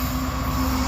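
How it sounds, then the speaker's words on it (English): A northbound SCWS coal train rumbles past close by, a steady, loud low drone of rolling wagons with a faint sustained tone over it. "SCWS coal train headed north."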